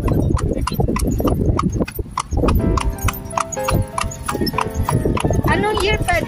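Hooves of a calesa horse pulling a carriage clip-clop in a quick, even rhythm close by, with people talking over them throughout.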